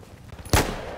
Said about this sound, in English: Gunshot sound.